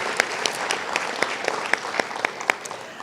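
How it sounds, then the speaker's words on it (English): Audience applause at an evening Martin Luther King Jr. Day celebration program, a steady wash of clapping from a crowd with sharp individual claps popping out, sustained for a few seconds with no talking. "Let's give everyone another great round of applause."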